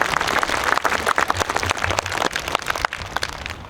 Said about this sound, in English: if we give him one more round of applause